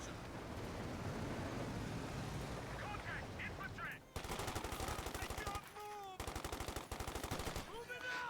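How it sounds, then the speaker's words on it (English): Kettenwerfer rocket launcher firing in the World War II strategy game Company of Heroes 2, with rapid rhythmic bursts of fire over dense battle noise and a brief lull midway, loud and continuous. "Kettenwerfer awkwardly announcing itself there by firing at Rifleman"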